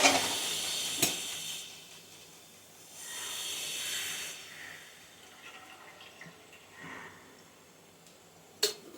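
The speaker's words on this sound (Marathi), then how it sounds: "हा कांदा तळून घेऊया तेल घालते" An onion for jackfruit biryani fries in hot oil, giving a steady broadband sizzle and hiss that swells and fades in waves, with a couple of sharp clicks near the start and end.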